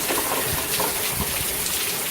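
Heavy rain from Hurricane Irma pours down in a steady, dense hiss with splashing water, continuous and fairly loud, with no talking.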